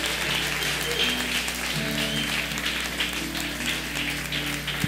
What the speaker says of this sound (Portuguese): você pode aplaudir o Senhor por isso, irmão